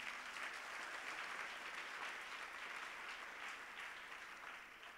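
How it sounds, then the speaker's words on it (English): A congregation claps hands together in an auditorium during a church service, a steady, even wash of applause that holds at a moderate level throughout and eases off slightly at the end. "Let's clap hands for him."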